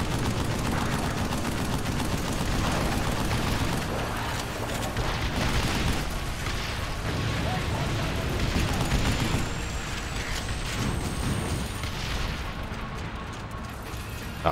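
Relentless gunfire and explosions from the video game Vanquish form a dense, loud barrage of rapid shots and booms that runs for the whole stretch with no letup.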